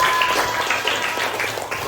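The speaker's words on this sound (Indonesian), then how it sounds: "tepuk tangan buat Bapak" A fifth-grade class at an elementary school in Bogor claps for their male teacher, a short burst of dense, steady applause from the whole room that fills the moment without anyone speaking.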